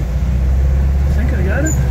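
A 1971 VW Type II bus engine rumbles loudly and steadily from inside the cabin as it pulls away in first gear, with someone talking over it.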